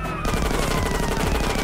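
Rapid bursts of gang gunfire in GTA San Andreas, a dense stuttering volley of shots firing continuously and loudly with no speech over it.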